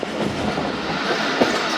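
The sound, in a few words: train arriving at Bahawalpur railway station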